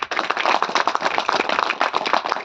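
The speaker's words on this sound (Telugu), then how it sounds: "గట్టిగా చప్పట్లు కొట్టండి" A crowd at a gathering claps loudly and steadily, many hands beating in a dense, close, continuous patter with no talk over it.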